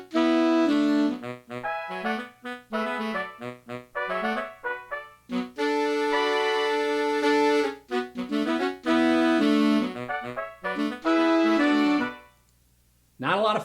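A synthesized horn section plays back from a Finale notation file, with tight, stabbing brass chords and short sustained notes in a funk rhythm, loud and clean, ending with a quiet tail.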